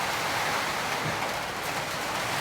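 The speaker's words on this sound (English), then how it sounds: "And it's just pouring with rain." Heavy rain pouring down on a remote cabin during a torrential storm, a dense, constant hiss of falling water with no pauses, close and loud.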